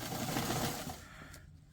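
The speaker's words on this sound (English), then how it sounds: "I just changed my machine over to where it makes a zigzag." Sewing machine stitching cushion fabric, a short close whirring run of fast needle strokes that slows and fades to quiet near the end.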